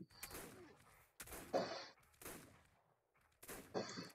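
Faint bursts of gunfire from the video game Ark: Survival Evolved come in four separate volleys spaced about a second apart, with quiet gaps between them.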